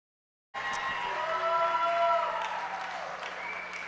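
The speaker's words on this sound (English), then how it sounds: "Do give all these kids a big, big round of applause." An arena audience at a youth fair swine show breaks into applause after a moment of silence, a sustained clapping wash that swells then eases, with voices calling over it.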